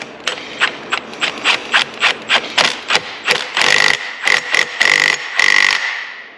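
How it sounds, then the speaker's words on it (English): Ratcheting torque wrench tightening the inner nut on a KTM hybrid bike, a close run of sharp metallic clicks in short bursts, becoming denser and longer clicking stretches toward the end. "now it should be 27. So let's go ahead and torque that."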